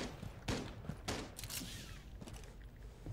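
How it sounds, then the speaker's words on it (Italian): Rapid gunfire from a Rainbow Six tactical shooter game: several sharp bursts and single shots crack at moderate distance, scattered irregularly over a short stretch with a steady background bed. "Ma di là, di là sparano"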